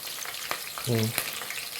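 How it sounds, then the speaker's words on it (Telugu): Green chilli paste is dropped into browned onions frying in a pan, giving a steady sizzle with stirring clatter and a brief louder burst as the paste hits the hot oil. "పచ్చిమిరపకాయలు వేస్తున్నాను. పచ్చిమిరపకాయ పేస్ట్,"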